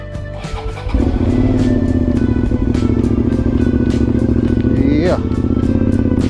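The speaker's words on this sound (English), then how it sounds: "Let's go ahead and get this cold start going." Motorcycle engine cold start, a brief cranking clatter that catches about a second in and settles into a loud, close, steady idle, with a short blip of revs near the end.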